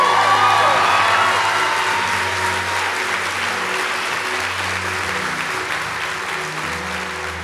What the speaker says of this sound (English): We're clapping for Jesus, but Jesus has done something awesome in his life.